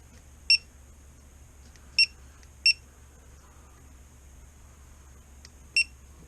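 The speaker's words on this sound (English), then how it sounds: "Well, the beeps work" Four short electronic beeps from a GoPro Session action camera under repair, spaced irregularly, clear and close against a faint steady background hum.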